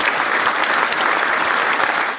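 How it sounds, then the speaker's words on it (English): Steady, dense applause at the close of a live podcast episode, loud and continuous from start to finish with no talk over it. "I'm going to go ahead and give us a round of applause because we dope"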